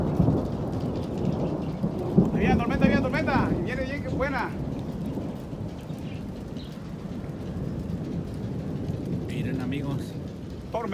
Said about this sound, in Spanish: ¿sí escuchan los truenos? ¡Puro trueno, gente!